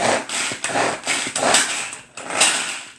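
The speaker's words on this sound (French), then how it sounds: "on vient hacher le tout." Food being chopped by hand, a run of firm rhythmic chops close by, each a short broadband burst, repeating without talk.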